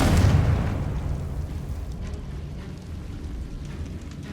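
A Confringo blasting spell explodes in the Hogwarts Legacy video game: a loud, deep boom that bursts at the start and leaves a low rumbling tail fading over a few seconds.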